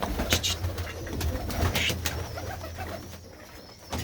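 Large pigeons kept by a fancier in Khosa Pando village, Punjab, coo low and close in a steady murmur, joined by a few sharp clicks and thin chirps, with no talking.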